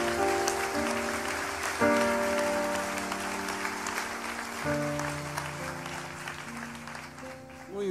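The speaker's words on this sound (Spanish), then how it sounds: "Le damos un aplauso fuerte a Dios" A congregation applauds in church, a sustained wash of clapping underneath sustained organ or keyboard chords, fading gradually toward the end.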